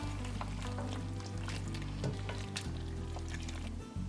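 Beef being stirred into a thickened sauce in a pan, a steady low sizzle with soft wet squishing and scraping as the spoon moves, heard alone.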